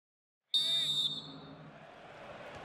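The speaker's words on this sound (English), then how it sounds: "Whistle from the referee, and we're off and running again for the second half" A referee's whistle in the FIFA 16 football video game marks the start of the second half: one loud, sustained blast of about half a second, then crowd ambience carrying on underneath.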